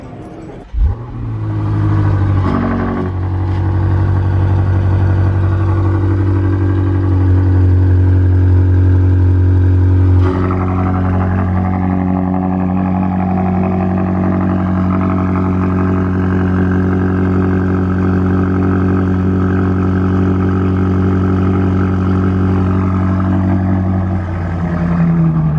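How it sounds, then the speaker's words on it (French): A 2020 Audi RS6 climbs a hill in Monaco with a loud, close, sustained engine drone, rising in pitch as it shifts and accelerates, then holding a steady heavy roar. "ça monte la colline en voiture"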